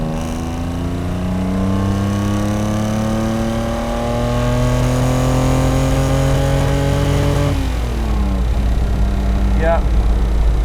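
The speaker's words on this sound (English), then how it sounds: "I will just try the engine now it's warmed up a bit." A 1960s Toyota 2000GT with a 2-litre engine, warmed up, revs and climbs through gears in a smooth rising whine, then drops back, loud and close throughout.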